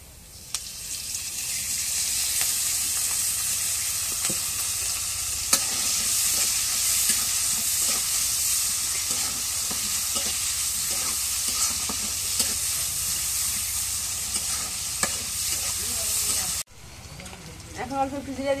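Chopped green chilies and onions fry in oil in a karai wok, giving a loud, even sizzle with faint stirring clicks throughout, until it cuts off abruptly near the end.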